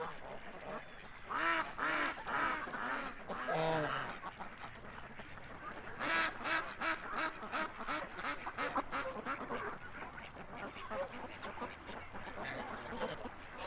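Several ducks quack repeatedly at moderate distance, overlapping calls in bursts with short pauses between them.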